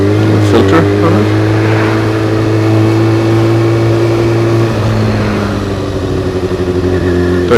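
A Kawasaki ZX6R 636 sport motorcycle engine drones loudly and steadily while riding on a road, shifting up a gear partway through and settling into a cruising hum.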